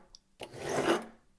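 A broadhead being sharpened on a KME sharpening jig, a single close, soft rasping stroke of abrasive across metal lasting about half a second, no voices.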